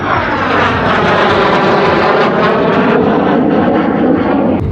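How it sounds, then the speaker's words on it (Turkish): An F-16 fighter jet roars overhead at an airfield, a loud, continuous, rushing engine noise that swells slightly and holds steady throughout. "F-16'nın zaten gürültüsünü biliyorsunuzdur. Çok gürültülü ve sesli bir uçak."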